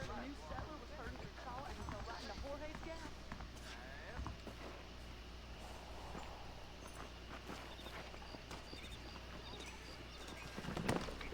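Horse hooves from the video game Red Dead Redemption clip-clop at a walking pace under game music and ambience, while a voice talks over them.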